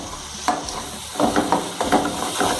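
A spoon stirs fried chicken gravy in a pan with onions, scraping and mixing in short repeated strokes over a faint sizzle, close and moderately loud with no talking.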